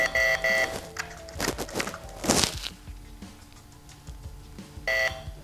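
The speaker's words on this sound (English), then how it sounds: "press and hold the power button until it beeps" Electronic beeps from a Festool sander's power button sound at the start and again near the end, with clattering and handling noises from the sander in between.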